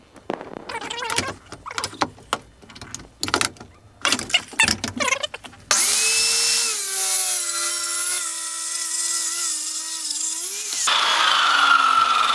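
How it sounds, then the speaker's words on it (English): Power saw cutting wood for a countertop inside a vintage coffee trailer: a loud, steady whining cut lasting several seconds, preceded by scattered knocks and handling clatter, with the blade tone shifting as the cut ends. "That's just kind of a general rule for cutting wood because there's so much flex in blades."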